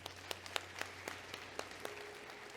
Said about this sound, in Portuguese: Uma salva de palmas para o Germano